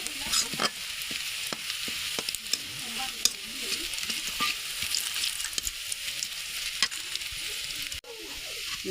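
Onions frying in hot oil, being fried until reddish for a tomato mash, with a steady close sizzle and repeated sharp scrapes of stirring throughout, no talk.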